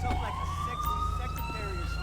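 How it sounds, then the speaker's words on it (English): A police siren wails nearby in the video game GTA V with the LSPDFR mod, a rising then steady wailing tone that holds for about two seconds over a constant low engine rumble. "That is not the siren on the tow truck, by the way. That sounds like it's ambient response doing its thing nearby."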